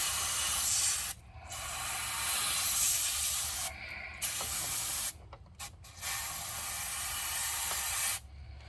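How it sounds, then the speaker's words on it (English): Brake cleaner hisses from an aerosol can onto a wheel spindle of a 1978 Plymouth Volare, loud close spraying in long bursts broken by a few brief pauses. "Then I like to grab my trusty dusty brake cleaner."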